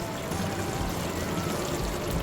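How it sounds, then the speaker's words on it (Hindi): Water being poured into liver (kaleji) cooking on a tawa, a steady, continuous pouring and sizzling rush lasting a couple of seconds with no talking. "तो अब इसमें हम थोड़ा सा पानी और"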